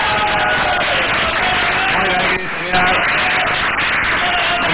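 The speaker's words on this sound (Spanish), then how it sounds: "un aplauso para Moreno, se lo merece" An audience applauds for Moreno on a Spanish television show, steady clapping and crowd noise with a brief dropout midway, mixed with sound from the set.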